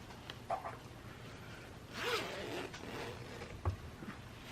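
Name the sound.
zipper closing a fabric bonding pouch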